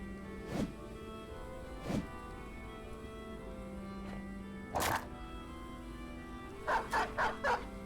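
Dogs in the Battle Brothers video game give several separate barks and yelps over a steady in-game ambience, ending in a quick burst of four yips, with no talking.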